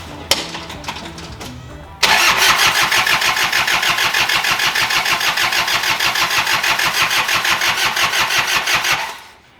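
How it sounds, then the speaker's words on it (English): A Toyota Hilux cranks briefly on jumper cables, then catches and settles into a loud, steady idle with a rhythmic mechanical pulse for several seconds before cutting off abruptly, close by with no talking. "I'm able to start up the Hilux like a nobody's business"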